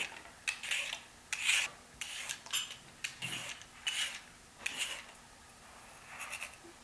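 A large daikon radish being peeled in a home kitchen, heard as a series of short, close scraping strokes, roughly a dozen in an uneven rhythm, with quiet gaps between them.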